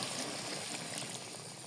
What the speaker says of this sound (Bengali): দিয়ে দিচ্ছি পানি এক মুখ,